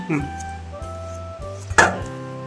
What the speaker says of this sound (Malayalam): സദ്യയുടെ സ്പെഷ്യൽ ആയിട്ടുള്ള കുമ്പളങ്ങ പച്ചടി മുറിച്ച് ചെറിയ കഷ്ണങ്ങളാക്കാം